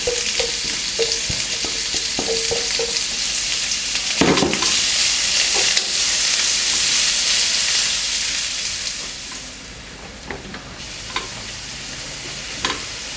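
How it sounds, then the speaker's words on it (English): Thin-sliced onion fries in a pan with a loud, close sizzle, broken by several sharp stirring scrapes and clatters; the hiss dips briefly near the end before returning. "Cut the onion into thin slices and loosen it before adding to the pan. And let it brown evenly."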